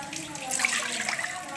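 Water being poured into a pot while cooking, three cups measured in, a short, close, continuous splashing stream of moderate loudness.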